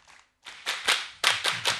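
Audience at a Pramuka scout movement anniversary gathering gives a welcoming round of clapping: a short patter, a pause, then about six sharp, close claps in a loose rhythm.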